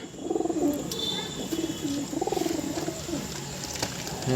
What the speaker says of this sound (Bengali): এই হচ্ছে দেশি লাইনের পায়রা